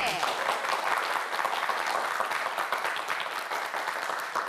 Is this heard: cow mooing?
no